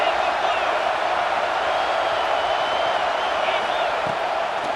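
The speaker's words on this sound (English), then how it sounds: "this crowd is turning it up a notch" Stadium crowd noise in EA Sports College Football 26 during overtime, a steady loud broadband roar of cheering that holds level throughout, with no talk over it.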